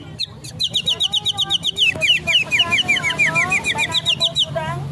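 A bird-call whistle souvenir is blown in rapid, warbling chirps that rise and fall in pitch, a close, loud, continuous run of tweets lasting several seconds with a low background hum underneath.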